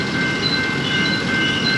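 A train passes nearby, its rail cars producing a loud, steady rumbling roar with thin high whines from the wheels, unbroken and close, without any voices.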